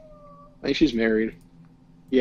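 A pet cat gives a drawn-out, close meow between bits of casual indoor conversation, with voices talking before and after it.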